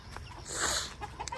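A chicken clucks briefly, a short burst of throaty calls close by, heard alone over faint background noise.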